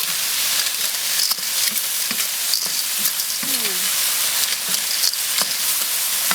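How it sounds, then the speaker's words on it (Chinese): River snails stir-fried in a hot wok with dark and light soy sauce, oyster sauce and cooking wine, giving a loud, steady sizzle with scraping stirs and clatters throughout. "老抽、生抽、蚝油、料酒，给它稍微简单的炒一下啊"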